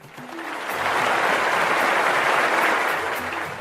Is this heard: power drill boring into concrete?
no